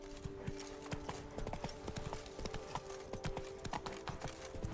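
Horse hooves galloping in the video game Witcher 3, a rapid continuous clip-clop over steady ambient game sound, with brief speech mixed in.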